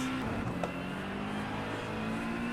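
Race car engine in a VR sim racing game at a corner exit, a steady droning hum with a whirring tone as traction control cuts in, moderate and even throughout, with no talking.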